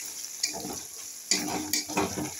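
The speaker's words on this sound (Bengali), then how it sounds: "আদাটা একটু ভাজা ভাজা হয়ে গেলে" Oil sizzles steadily as chopped ginger fries in a pan, with a few stirring scrapes and clinks of a spoon against metal, close by.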